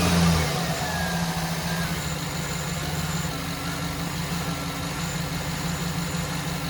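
A 2009 Chevy Silverado engine fires up with a brief surge, then settles into a steady, even idle with a low rumble and a constant drone throughout.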